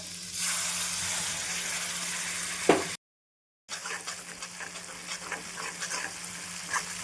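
Spice paste with turmeric and red chilli fries in a pan with a steady sizzle and occasional stirring scrapes, fairly close, cut by a brief gap of silence partway through; no speech.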